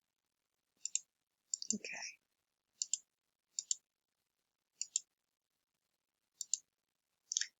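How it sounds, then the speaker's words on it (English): Crisp double clicks of a computer mouse repeat at irregular intervals over a silent background, with one brief spoken word between them. "Oh, click, click, click. Needs a few more clicks, this does."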